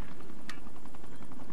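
Helicopter flying in the military video game Arma 3, a steady rotor and engine drone held at moderate level throughout with a brief sharper burst near the start, no talk.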